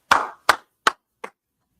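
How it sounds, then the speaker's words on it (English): A group claps four times in a steady, evenly spaced rhythm during a class session, each clap loud, close and crisp, with the last one softer. "Let's clap it up for that, man."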